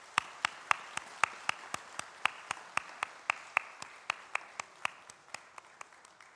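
A church congregation claps in even, synchronized beats about four per second, a steady rhythmic run of crisp claps at moderate distance that softens slightly toward the end, honoring new members at a Korean Presbyterian Sunday service.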